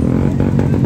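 A motorcycle engine in a bike rally rumbles loudly and close by with a low, steady throb, over in under a second.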